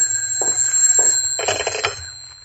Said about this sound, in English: Oh, and there's my phone.